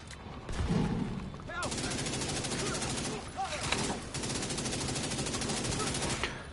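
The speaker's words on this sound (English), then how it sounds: "I'm shooting this guy in the back" Rapid automatic gunfire in The Division 2 on PS5, dense bursts of shots rattling almost continuously with short pauses, loud and close, with a brief voice heard early on.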